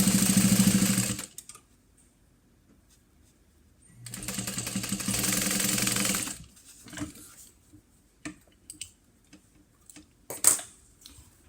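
A home sewing machine stitches a seam on a small fabric cash-card mini wallet: two close, steady whirring bursts of stitching, then quieter scattered clicks and taps as the piece is handled.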